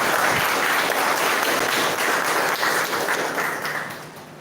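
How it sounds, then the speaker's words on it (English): School audience at a mock parliament event claps loudly and continuously, a dense close wash of applause that tapers off toward the end. "Please clap."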